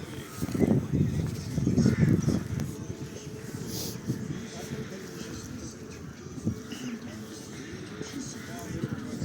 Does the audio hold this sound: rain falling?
no